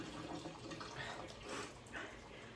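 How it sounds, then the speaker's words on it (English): Cold tap water runs steadily over a bunch of fresh chives in a home kitchen, a faint, even splashing hiss with no talk. "I'm going to wash them in cold water."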